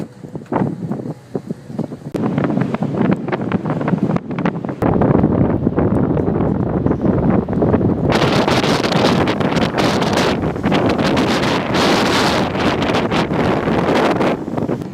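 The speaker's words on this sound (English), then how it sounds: "it's kind of windy" Strong, steady wind buffets the microphone aboard a ferry in Seattle with a loud, constant roar that grows rougher and gustier halfway through; no voices.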